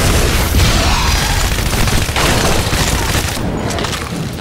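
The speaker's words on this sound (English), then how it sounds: "I don't know why I feel the need to burst fire." Rapid weapon fire in the video game Shadow Warrior 2, a dense, loud stream of shots running the whole time with no pauses, layered with game effects.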